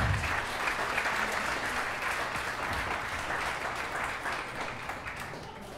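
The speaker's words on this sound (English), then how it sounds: "let's give George a nice round of applause" Sustained applause from a wedding audience at a park pavilion by the seaside, steady dense clapping that holds at a constant level for several seconds with no voices over it.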